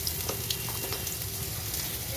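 Black cumin seeds sizzle in a small amount of hot frying oil, giving a steady, close crackling hiss with faint pops and no break.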